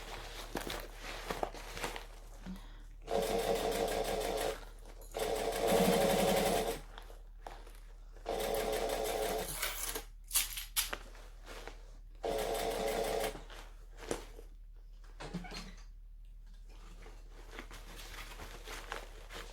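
A sewing machine runs in several separate bursts of stitching and backstitching, each a few seconds long, broken by quiet gaps with faint handling sounds.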